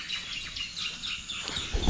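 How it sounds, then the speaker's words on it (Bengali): Birds chirp around an old zamindar house in the afternoon, with scattered high calls over a steady outdoor background and a louder rustle near the end. "এখানে প্রচুর পাখির কিচিরমিচির শুনতে পাবেন।"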